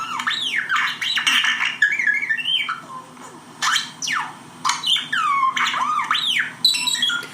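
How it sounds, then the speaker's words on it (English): A pet bird gives loud, harsh squawks and swooping screeches close to the microphone, in repeated bursts with short gaps between them and no talking. "Yeah, that's the bird, by the way."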